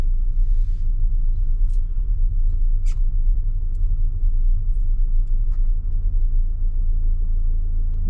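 An automatic Ford Transit Custom van pulling away, a steady low engine and road rumble heard from inside the cab, continuous and fairly loud with a few faint clicks and creaks over it.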